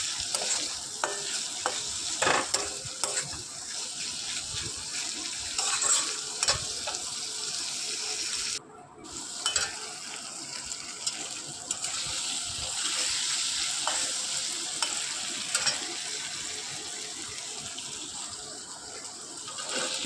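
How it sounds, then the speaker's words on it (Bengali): Minced chicken sizzles steadily in a hot pan while being stirred, with scraping strokes of the spatula over a constant frying hiss, close and fairly quiet, with a brief break partway through. "দিয়ে আমি ভালো করে এটাকে কষাবো, যেমন চিকেন কষাতে হয় তেমনই চিকেনটাকে কষাবো।"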